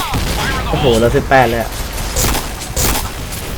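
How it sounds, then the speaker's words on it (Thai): Explosive bursts from a video game crack out beneath excited talking, a couple of sharp blasts standing out against steady game noise. "ว้าวระเบิด"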